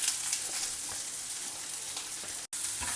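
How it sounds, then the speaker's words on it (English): Chopped onion and grated carrot sautéing in a pan for South Indian carrot chutney, giving a steady, close hiss and crackle of frying with a brief break near the end. "Saute it till the onions and carrots are slightly soft."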